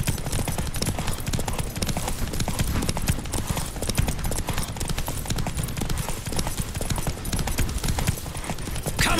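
Rapid hoofbeats of a galloping horse in The Witcher 3 drum steadily and loudly throughout, with a busy rushing backdrop and no pause.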